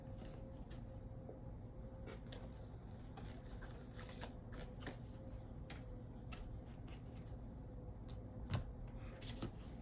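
Tarot cards being shuffled and drawn, a soft continuous riffle of card stock with scattered light flicks and taps over a steady low room hum, close and quiet with no talking.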